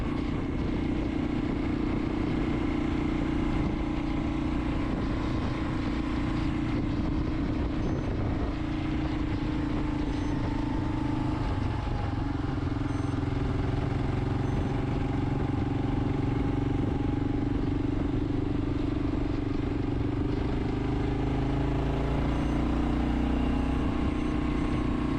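A vehicle engine runs steadily on an icy night outing, a continuous low rumble with droning hum holding throughout, close and unbroken, with no voices over it.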